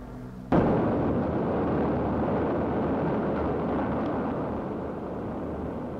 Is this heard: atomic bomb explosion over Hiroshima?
yes